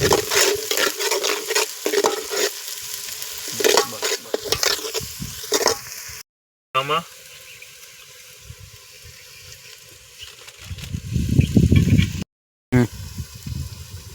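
Green onions are stirred in a hot pan, with rhythmic scraping and clattering over a frying sizzle, loud at first, then quieter with a brief rushing burst of sizzle before the end.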